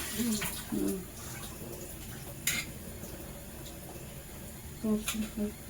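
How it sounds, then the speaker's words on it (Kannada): Cold tap water runs steadily as a cooking pot is washed in a home kitchen, a soft continuous hiss with a few clinks of the vessel, while people talk over it. "ಇಲ್ಲಿ ಅಮ್ಮ ತಣ್ಣೀರು ಬಿಟ್ಕೊಂಡು ತೊಳಿತಾ ಇದ್ದಾರೆ."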